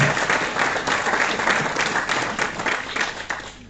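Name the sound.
audience applause welcoming the mayor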